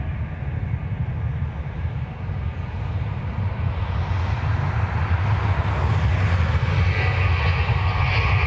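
A jet airliner at Dublin Airport sits on or near runway 28 right, its engines giving a steady broadband roar and low rumble that builds slightly toward the end, heard at a moderate distance with no talk.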